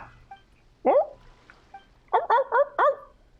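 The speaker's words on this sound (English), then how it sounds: "Taramaru's barking is getting louder." Dog barking in the Genshin Impact video game: one sharp bark, a pause, then a quick series of four barks close and loud over quiet background.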